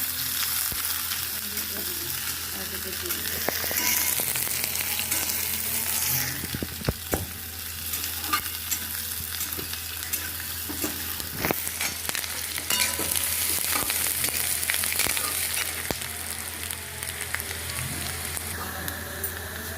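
Onions and chechi greens, with garlic, frying in a pan: a loud, continuous, close-up sizzle with crackling spatters and occasional stirring scrapes throughout.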